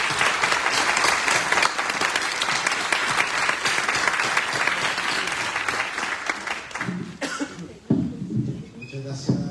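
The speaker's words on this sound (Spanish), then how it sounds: "un aplauso y bienvenido a todos al segundo semestre de 2024" An audience applauds at the opening of a university architecture school's semester workshop presentation, with sustained clapping that fades out toward the end, a cough, and a voice speaking over the last few seconds.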